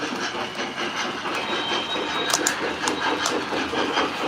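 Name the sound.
model MOW train running on layout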